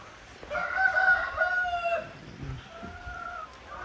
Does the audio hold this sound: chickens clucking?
yes